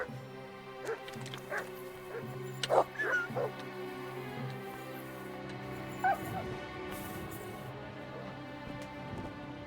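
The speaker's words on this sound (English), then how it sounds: "Oh, there's a wild dog there." A wild dog in Kingdom Come: Deliverance II barks and yips a few times, fairly faint and a little distant, over steady background game ambience and rain.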